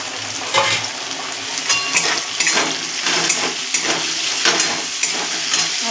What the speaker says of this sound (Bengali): দেখুন আলু আমাদের ভাজা ভাজা হয়ে গেছে, এবার আমি রসুনটা দিয়ে দেবো এর মধ্যে